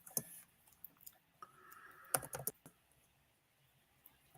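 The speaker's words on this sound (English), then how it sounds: "I can hear you typing. Like you're typing away." Scattered keyboard clicks and taps, irregular short bursts of typing up close, with quiet gaps between.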